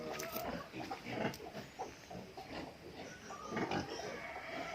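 Pigs on a backyard farm grunt and oink in a busy, overlapping chorus, close and fairly loud, with snuffling and shuffling throughout.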